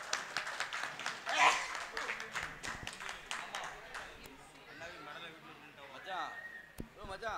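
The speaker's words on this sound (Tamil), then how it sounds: "அவங்களுக்கு ஒரு கைத்தட்டுங்க." Scattered audience handclaps at a Tamil villisai bow-song folk performance, sharp uneven claps popping out over a speaking voice that carries on throughout.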